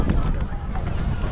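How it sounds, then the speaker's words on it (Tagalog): Strong wind rumbles steadily against the microphone at Baseco Beach in the late afternoon, a dense, blustery roar with a voice faintly underneath. "mahangin na ngayon"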